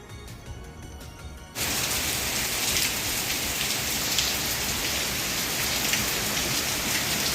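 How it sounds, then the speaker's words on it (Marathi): Heavy monsoon-season rain pours down in a sudden loud roar after a quieter opening stretch, then holds as a thick, constant downpour hiss with dense drumming on surfaces. "आजही खूप मोठा पाऊस पडला"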